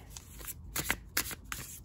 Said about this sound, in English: they're shuffling amongst each other very nicely